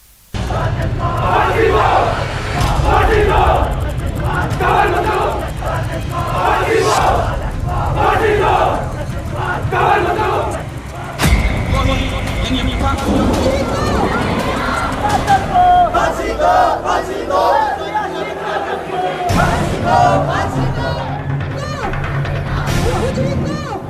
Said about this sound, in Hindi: हजारों लोगों की भीड़ पाकिस्तान मुर्दाबाद के नारे लगा रही है